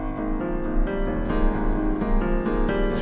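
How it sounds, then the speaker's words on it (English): Solo piano plays the accompaniment to a song from the musical Into the Woods, with steady, repeated rhythmic chords over a sustained low bass, clear and close with no voices. "And the piano accompaniment sounds like this."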